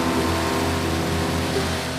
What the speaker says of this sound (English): It does have a sport exhaust, it's not a standard exhaust, so it sounds a tiny bit better